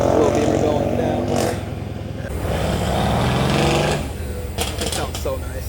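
A small BMW car pulls away on a hot day. Its engine note climbs and drops as it drives off, with a deep rumble and a few short crackles, sounding fairly close. No voices are heard.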